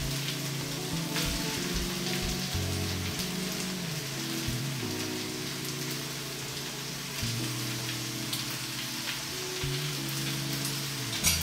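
Green peppers tipped into a pan of vegetables for a tuna-based pasta sauce, producing a continuous crackling sizzle like rain on a surface, with a few soft clatters and steady moderate loudness, no speech.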